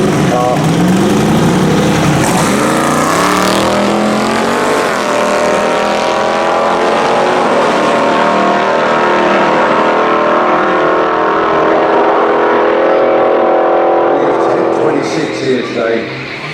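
A manual-shift Ford Focus drag car at a multi-track UK drag event roars loudly as it accelerates, its engine note climbing through gear changes before fading near the end, with commentary talking over it.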